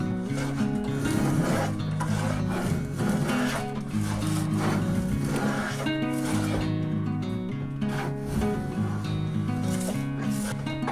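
A router makes a pass clearing leftover material from a groove in plywood, giving a continuous raspy, rubbing grind with uneven pulses throughout.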